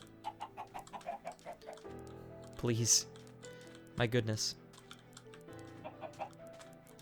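Minecraft chickens cluck in short, soft bursts through the stretch, with a couple of louder broadband game noises mid-way, while a person talks over them.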